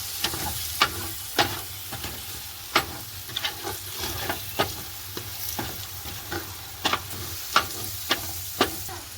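A spoon scrapes around a pan at a regular pace as curd is stirred into sizzling masala, each stroke a crisp scrape over a continuous frying hiss, close and clear.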